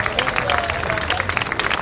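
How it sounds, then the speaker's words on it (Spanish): A crowd claps and applauds at a street stunts speed contest in A Coruña, a dense patter of hands that runs continuously at moderate volume, with a voice faintly over it. "fuerte aplauso para Sergio!"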